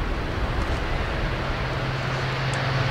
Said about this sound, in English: then the A400 starts its takeoff run